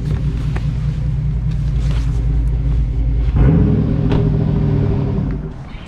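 A GMC Sierra truck fitted with a Carven exhaust and its resonator deleted rumbles loudly at close range, with a deep idle drone that swells in a rev around the middle before easing off near the end.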